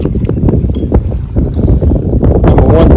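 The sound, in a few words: 1968 Johnson 9.5 HP outboard motor boat running on lake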